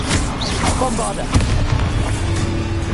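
Booming spell explosions in Hogwarts Legacy, with several deep blasts and a sharp crack near the middle over busy game noise and a voice.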